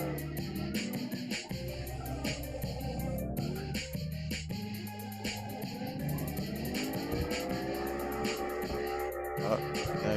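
Several cars drifting together in CarX Drift Racing Online: continuous high-revving engine drone with shifting pitch, layered with long tire squeals, loud and steady throughout without pause, no talk.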